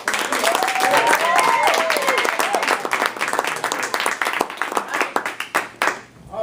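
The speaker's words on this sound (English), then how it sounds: "I want you to join me in a hearty, amped-up round of congratulatory applause" An audience applauds loudly and steadily, welcoming a speaker to the lectern, with dense clapping and a few voices calling out before the clapping fades out at the end.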